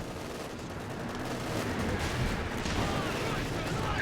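Machine gun rounds from a Panther's MG pound against a tank in Company of Heroes 2, a dense, continuous rattle of impacts under steady battle noise that swells slightly halfway through.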